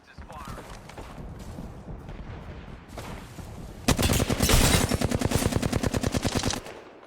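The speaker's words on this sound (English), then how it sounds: "Knuckle cluster's firing." Knuckle Cluster ability firing in the Apex Legends video game: a loud, rapid burst of popping automatic shots from about four seconds in, preceded by softer game noise and scattered talk.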